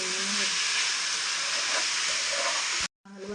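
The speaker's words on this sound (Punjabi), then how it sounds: "ਹੁਣ ਫੇਰ ਭੁੰਨਣਾ ਪੈਣਾ 5 ਮਿੰਟ" Grated carrots and sugar for gajrela roast in a pan with a loud, steady sizzling hiss that runs continuously for nearly three seconds. It cuts out briefly, then resumes.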